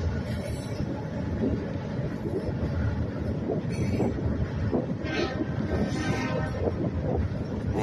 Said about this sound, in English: So I took a little video of the train here for you.